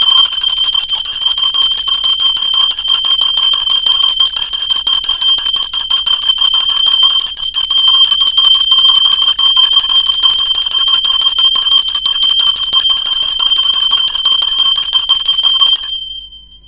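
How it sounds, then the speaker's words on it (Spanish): A bell rings steadily and loudly for about sixteen seconds with sustained ringing tones, then cuts off abruptly. "va campana."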